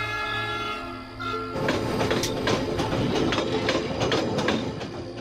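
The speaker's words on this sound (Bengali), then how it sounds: "একটা মাল ট্রেন আমার গা ঘেঁষে প্রচণ্ড গতিতে চলে গেল" A goods train roars past at high speed in a dramatized scene, starting with a low rumble, then a loud, close, dense rush of rattling wheels and clatter that holds steady to the end.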